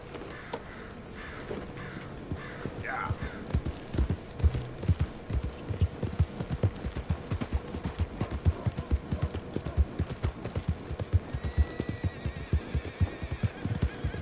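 Horse hooves clip-clop steadily in Red Dead Redemption 2, a rapid rhythmic series of close hoofbeats on the ground over a busy town ambience, with a brief whinny early on and faint background talk.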